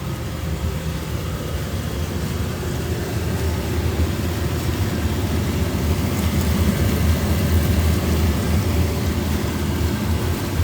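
Beneteau GT32 boat engines running steadily at about 1800 RPM, a low, even drone with a quiet background hiss and no talk.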